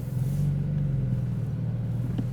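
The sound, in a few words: Porsche Boxster engine sound while driving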